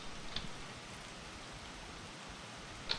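Steady rain in the Escape from Tarkov video game, a soft even hiss throughout with a couple of faint, brief clicks, no voices.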